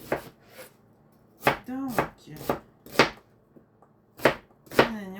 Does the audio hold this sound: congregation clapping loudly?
no